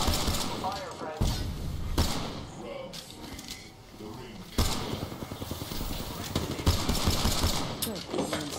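Gunfire in the Apex Legends video game crackles in rapid bursts of shots and thuds, loud and close, with short pauses between volleys and game voice lines heard over the action.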